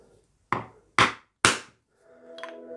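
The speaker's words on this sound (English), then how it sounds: "pop it with the awl." Three sharp, separate taps of a steel awl marking a point on a Les Paul Junior guitar body, close and crisp with short pauses between, followed by a faint hum.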